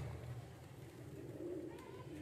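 Soft, faint cooing of pigeons on a rooftop loft, low murmuring calls drifting over a steady background hush with no talk.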